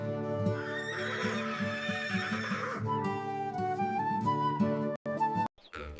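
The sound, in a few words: horse neighing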